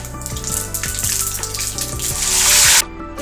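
Mustard seeds and curry leaves spluttering in hot oil in a home kitchen while a small-onion thokku is cooked: a steady crackling hiss with scattered pops, swelling louder near the end before cutting off abruptly.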